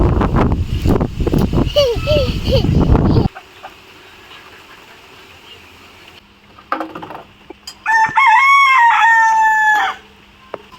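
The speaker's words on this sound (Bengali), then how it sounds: "মুরগি" Busy voices and clucking fowl give way to quiet, then a rooster crows loudly and clearly for a couple of seconds.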